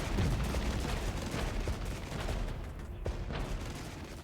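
Artillery fire in the wartime strategy game Regiments sounds as faint, scattered booms and crumps, several impacts spread through a low, noisy rumble at a distance.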